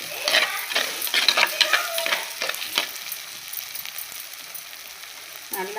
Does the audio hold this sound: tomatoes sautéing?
yes